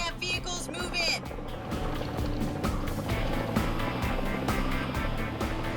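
Helicopter flying near a film set, a steady rotor and engine drone with a low pulsing thump, heard under a voice, with bright whistling tones early on.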